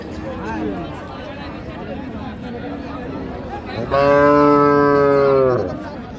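A cow lets out one long, loud moo close by at a cattle market, following a stretch of people talking amid background noise.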